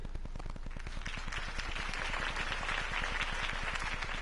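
Dense, continuous clapping from a sizeable crowd in the Batman Telltale Series video game, steady and loud throughout, swelling slightly toward the end.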